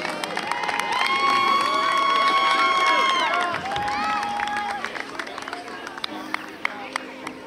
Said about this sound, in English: fantastic round of applause